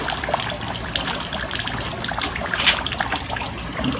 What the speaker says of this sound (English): we'll keep running water through there